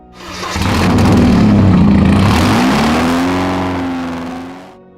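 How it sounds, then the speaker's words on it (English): A loud, raw Porsche 944 race car engine, unmuffled, revs up hard and holds a rasping roar, then the pitch shifts and it fades as it pulls away. "it's a very unique sound of the 944 unmuffled cars."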